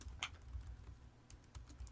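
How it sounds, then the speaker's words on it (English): Rapid, uneven clatter of keys being typed on a computer keyboard, close and fairly quiet, with brief bursts and short pauses and no voices. "I'm typing right now."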